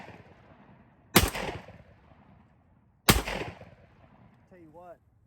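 Two loud, sharp shotgun blasts from a Hatsan Escort Magnum 12 gauge firing number 4 shot, spaced about two seconds apart, each with a short outdoor decay, followed by a brief spoken remark.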